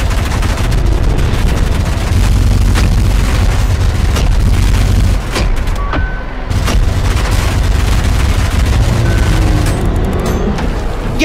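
Machine gun fire pours into an enemy in ULTRAKILL, a loud, dense stream of rapid shots and booming impacts with a brief break midway, continuing without voices.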